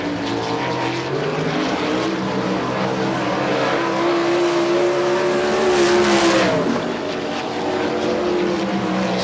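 Sprint car lapping the Sharon Speedway dirt track during an All Star Circuit of Champions event in Hartford, Ohio, a loud sustained engine howl heard from a distance, swelling as it passes, then dropping in pitch.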